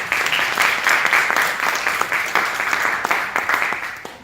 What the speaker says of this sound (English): a warm round of applause for Michelle Bell.